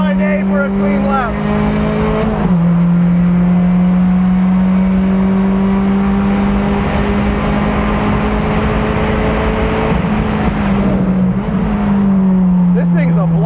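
A 2017 Mazda MX5 Cup race car drives hard on a track, its engine droning loudly inside the cabin with pitch shifts as gears change, and a voice talks over the engine noise.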